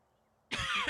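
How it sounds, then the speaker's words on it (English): One short, harsh cough bursts out after half a second of near silence, close to the microphone and alone. "I'm going to need a cough for a little bit here."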